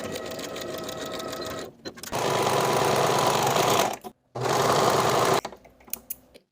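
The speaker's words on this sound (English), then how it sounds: "I'm going to sew the shoulder seams with a 5/8 inch seam allowance" A sewing machine stitches the shoulder seams of a ruffled statement top with a 5/8 inch seam allowance, running in loud steady bursts with two brief pauses and quieter handling noises at the end.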